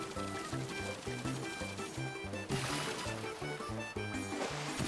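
Water jet gushing and sloshing from a Gushen creature in Super Mario Odyssey's Seaside Kingdom, a steady spray running under upbeat game music, with a brief louder burst midway.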